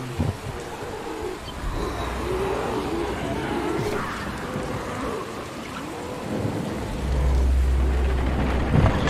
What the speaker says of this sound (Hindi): चलो बाहर फिर से बारिश गिर रही है